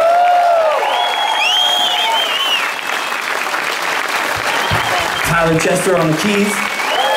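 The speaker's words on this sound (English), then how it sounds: "a warm round of applause from Miss Jessica Heath." Concert audience in Amsterdam applauding and cheering after a jam, steady broadband clapping throughout with a voice talking over it as he introduces the band.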